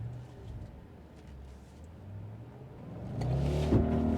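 An Audi S5 with a 4.2 V8 of about 350 horsepower launches hard, the engine note rising steadily from a low rumble to a louder, strained roar, heard from inside the car.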